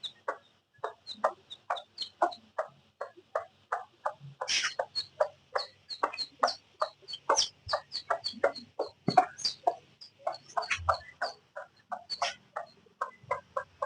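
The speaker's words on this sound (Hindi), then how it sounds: "ये मुर्गी।" A hen clucks steadily in short rhythmic bursts while her chicks peep around her as she feeds, close and clear, with a few louder squawks breaking the even pattern.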